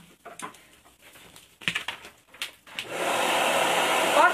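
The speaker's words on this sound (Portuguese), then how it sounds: "A gente vai ter que disputar o secador aqui um pouquinho." A hair dryer switches on after scattered quiet tapping and handling noises from a craft table, then blows with a steady, fairly loud whooshing roar to the end.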